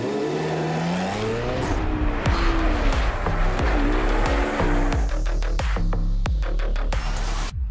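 A 645 hp Chevrolet Corvette Z06 pulls away with a loud, close engine note, revs rising and falling through several quick gear changes as it accelerates off.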